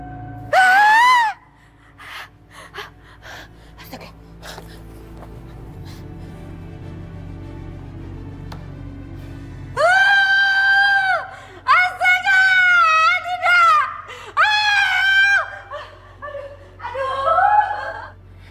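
A woman screams in repeated loud bursts, starting with one short cry and breaking into a long run of shrill wails.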